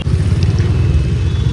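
A motor vehicle engine running while riding on the road, a loud close low rumble with steady throbbing, continuous throughout with no talk.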